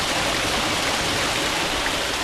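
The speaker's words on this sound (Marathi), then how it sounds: "छोटूसा वॉटरफॉल छोटूसा वॉटरफॉल" A small waterfall in a forest stream during the Konkan monsoon gives a steady, dense rush of splashing water. It fills the whole stretch evenly, fairly loud and close, with no voices over it.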